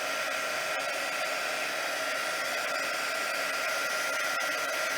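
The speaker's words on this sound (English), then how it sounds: "The heat tool I will hold in one place until it starts to melt the embossing powder." A crafting heat tool blows continuously to melt embossing powder, giving a steady, close, hair-dryer-like whoosh that stays even throughout.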